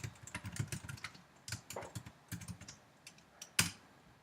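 Keys clatter on a computer keyboard in quick irregular bursts with short pauses, close and fairly quiet, ending in one sharper keystroke; nobody speaks.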